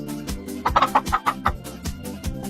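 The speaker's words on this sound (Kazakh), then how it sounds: "Тауық." A domestic chicken clucks in a quick series of sharp, close calls that rise and fall in loudness, the bursts bunched together in the middle with a few scattered clucks before and after.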